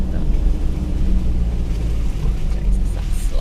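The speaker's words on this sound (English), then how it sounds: "I can hear the engine maybe" A car engine rumbles low and steady while driving slowly along a narrow forest track in a state forest, mixed with wind buffeting from open windows, close and continuous.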